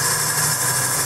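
Close, continuous whine of a wood lathe taking a light cut while truing a turned lidded box, an even, high-pitched hum with no voices over its brief span.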